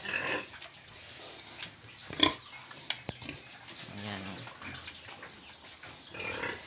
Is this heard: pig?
yes